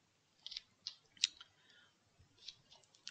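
A few faint, sharp mouse clicks while working on a spreadsheet pivot table, spaced irregularly over a quiet background with no talking.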